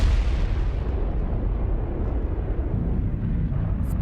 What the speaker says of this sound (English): Do rockets blow up?